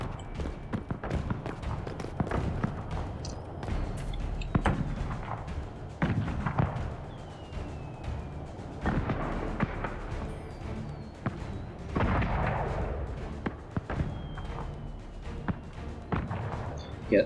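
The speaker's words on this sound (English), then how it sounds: "Let's watch the fireworks." Fireworks in Dragon Age Inquisition, a series of dull booms and thuds scattered irregularly over a steady game ambience, with some crackle and occasional whistling rising tones, moderately loud throughout.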